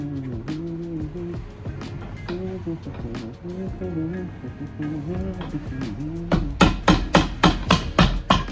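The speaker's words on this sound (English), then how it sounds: "We attach a little bit, hammer it flat." A leather shoe sole welt is hammered flat with about eight quick, sharp, close blows near the end, following a stretch of someone talking alongside softer handling sounds.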